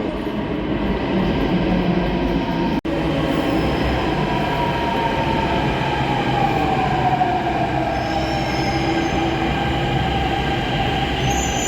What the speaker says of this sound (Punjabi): ਮੈਟਰੋ ਇਸ ਟਾਈਮ ਆ ਚੁੱਕੀ ਆ ਸਟੇਸ਼ਨ ਤੇ